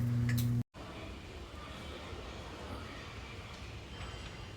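A continuous low rumble of a train in motion, steady and enclosed, after a brief hum and a momentary cut at the start.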